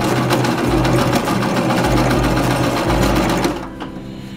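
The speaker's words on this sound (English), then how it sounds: "she's going to second stitch the entire heart, and she's going to leave the window open." Sewing machine running steadily as it double-stitches around a fabric heart-shaped pillow, a continuous close whir broken by short pauses, then stopping near the end.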